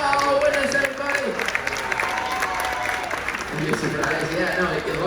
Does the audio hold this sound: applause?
yes